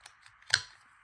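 Scissors cut through a packaging card in one crisp, close snip, quiet and alone in an otherwise silent moment.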